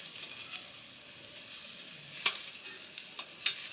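Food sizzling on a barbecue at a Dutch campsite, a steady close hiss with a few sharper pops and crackles, heard alone without talk.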